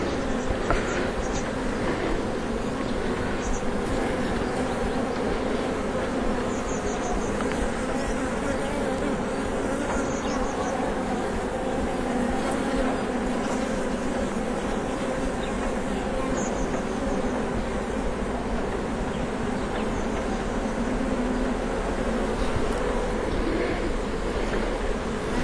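Honeybees swarm during beekeeping, about two kilos gathered to stock a queen-rearing colony, giving a dense, steady buzzing drone throughout with little change in loudness.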